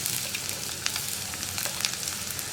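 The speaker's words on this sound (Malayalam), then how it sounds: "വെളിച്ചെണ്ണയിലേക്ക് നമ്മൾ കട്ട് ചെയ്ത് വെച്ചിരിക്കുന്ന ഉള്ളി ചേർക്കാം." Sliced onions dropped into hot coconut oil for vendakka aviyal, a continuous close crackling sizzle with sharp spitting pops throughout.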